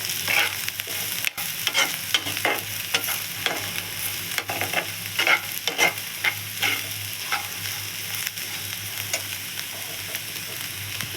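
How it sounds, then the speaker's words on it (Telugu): Bitter gourd and onion frying with chili powder being stirred in a pan, a continuous hiss of oil under a busy run of spatula scrapes and taps, close, with no speech. "ఇప్పుడు కొంచెం కారం, వేసుకొని బాగా కలుపుకోవాలి."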